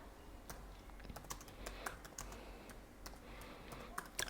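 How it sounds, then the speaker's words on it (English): Typing names on a computer keyboard: quiet, irregular key clicks and taps close to the microphone, with short pauses between bursts of keystrokes. "we're going to start typing in the names of the children"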